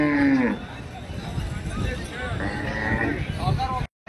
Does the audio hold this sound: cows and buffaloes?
yes